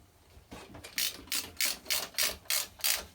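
Close ratcheting of a 13 mm wrench snugging bolts on a 2054 VW stroker engine build, a series of about six evenly paced rasping clicks bursts after a brief quiet start, with no talking.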